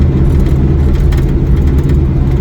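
An LS3-swapped 1969 Camaro cruises down a bumpy road, its V8 droning low and steady from inside the cabin with a constant rumble and road noise, no voices.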